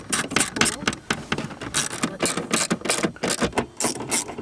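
Quick clicking ratchet bursts driving fasteners back into a Chevy Trailblazer center console, close and sharp, in a rapid irregular rhythm with no speech.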